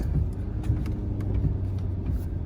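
A steady low engine drone from a 2019 Ford F-450 Limited pickup towing 30,000 lbs near a hilltop with the throttle easing off, continuous and close, with a deep rumble and no voices.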